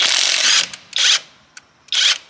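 An OLMLMO 1/2-inch drive cordless impact wrench, rated at 800 ft-lbs, removes a wheel lug nut on a 2500 Ram pickup, giving three loud, close hammering bursts separated by brief pauses.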